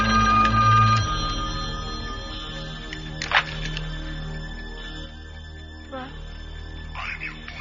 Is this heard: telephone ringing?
yes